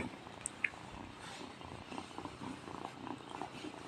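A soft, steady cat purr runs throughout, quiet and close, with a couple of faint higher clicks near the start.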